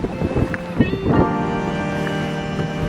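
Gusty wind buffets an outdoor microphone in a hilltop country park in the Peak District, a steady low rumble with a few louder bumps early on, while a faint tonal hum runs underneath.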